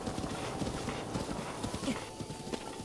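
Horse hooves clip-clopping steadily in the video game Zelda: Breath of the Wild, a loud continuous rhythm of hoofbeats filling the whole stretch with a faint whinny-like tone partway through.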